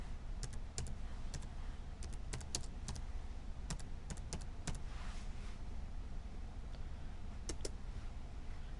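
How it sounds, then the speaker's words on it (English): Computer keyboard typing in short clustered bursts of crisp, close key clicks with brief pauses between, over a quiet low room hum and no speech. "we're going to type in domain users."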